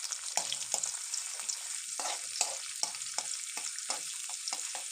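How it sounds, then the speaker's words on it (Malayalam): Garlic and ginger frying in a pan for a jackfruit seed pickle, giving a busy crackling sizzle with repeated stirring scrapes at a fairly quick rhythm, close and clear with no voices. "ഇനി കുറച്ച് വെളുത്തുള്ളി ഇട്ട് നമുക്ക് നന്നായിട്ടൊന്ന് മൂപ്പിച്ചെടുക്കാം"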